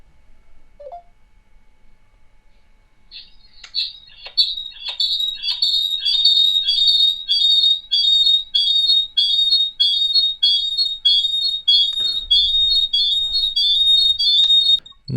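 A WhatsApp call on a mobile phone gives a loud, steady run of repeating electronic ringing tones in even pulses, ending with a brief low thump as the call connects.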